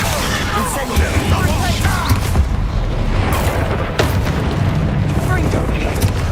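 Spell explosions from Confringo and Incendio in the video game Hogwarts Legacy, a dense run of booming blasts and bursts over busy game sound, with speech mixed in throughout.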